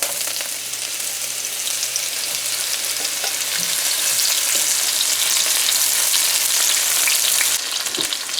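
Onions frying in heated oil in a pan for Spanish rice, a loud, dense, unbroken sizzle holding steady with a few faint utensil taps.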